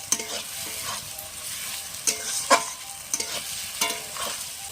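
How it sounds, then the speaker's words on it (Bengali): Ginger paste fries in oil in a pan, a steady close sizzle broken by several sharp scraping strokes of a spatula stirring it. "আদা বাটাও আমি ভালোভাবে ভেজে নেব।"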